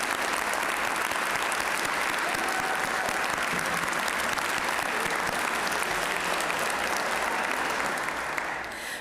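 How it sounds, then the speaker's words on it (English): Members in a legislative house chamber give steady, moderately loud applause, a dense patter of many hands that holds evenly for several seconds before cutting off abruptly at the end. "That deserves a round of applause."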